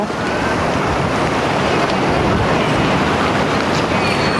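Steady rush of water lapping and churning, with a broad windy hiss throughout and no voices.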